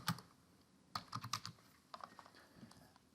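Keys clack on a computer keyboard in short, quiet bursts of typing, with brief pauses between clusters of keystrokes.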